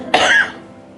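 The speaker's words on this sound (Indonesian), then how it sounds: "Saya agak batuk, saudara," A single sharp, close cough from a woman preaching in a church, a harsh burst that fades quickly into a quiet room.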